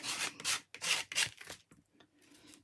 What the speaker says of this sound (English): I'm just going to clean these off